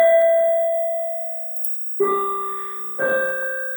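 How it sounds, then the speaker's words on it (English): A doorbell chimes indoors: a sustained ringing tone fades out, then two bright tonal strikes follow about a second apart, each ringing on clearly. "excuse the bell"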